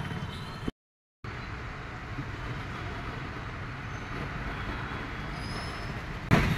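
Road traffic after rain beside Rankala lake in Kolhapur: a steady low rumble of passing vehicles, moderately distant and continuous, with a short dropout early on and a louder burst at the end.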